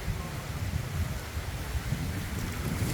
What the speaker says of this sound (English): Sorry for all the wind, if you're getting a lot of wind in this video